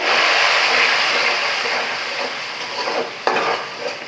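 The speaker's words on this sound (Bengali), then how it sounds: "পেঁয়াজটা ভেজে নেওয়া শেষ এখন আমি বাকি মশলাগুলো দিয়ে দেবো একসঙ্গে" Spices are tipped into fried onions for a meat curry and stirred in a pan. A loud, steady, close sizzling hiss eases slightly, broken by one sharp click and a few scrapes.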